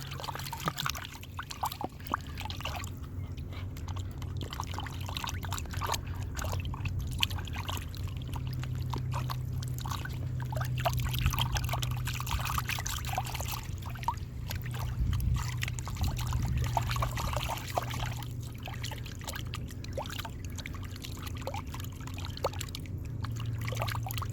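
Cold water poured into a bowl of bannock dough on a camp cook set, a steady low trickle and splash running continuously near the mic with no talk.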